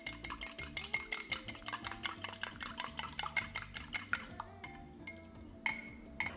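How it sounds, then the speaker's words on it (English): Eggs lightly beaten with a spoon in a bowl for chocolate banana bread, a quick run of steady clinking taps against the bowl, close and crisp, slowing to a few scattered knocks at the end. "Lightly beat it before you add it."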